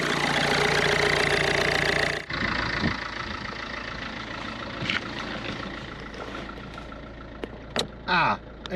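A Ford Fiesta engine idles steadily at low pitch after a loud revving start following injector seal and glow plug repair, with brief clicks and knocks nearby.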